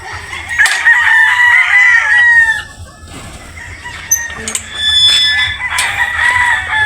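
Roosters crow loudly and repeatedly in a pen of pure Boston chickens, with clucking hens around them, the calls overlapping close by over low farmyard background.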